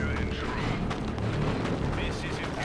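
Rapid artillery blasts from double Whirlwind batteries in a Space Marines versus Tyranids match of Dawn of War 2, a dense continuous barrage of booms and impacts with a commentator talking over it.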